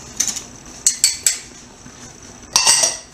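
Sugar, baking powder and salt are stirred together in a bowl, a few quick clinks and scrapes of a utensil against the bowl in short bursts, close and distinct, with no one talking.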